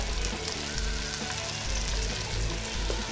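Asparagus frying in butter and olive oil in a skillet makes a dense, continuous close-up sizzle with no pauses and no voices.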